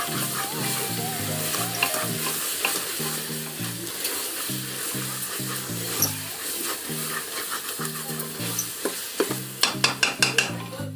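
Chicken biryani mixture with salt being stirred in a large pot, a steady sizzle under repeated stirring scrapes, with a rhythmic low throb in the background and quick clattering strokes near the end.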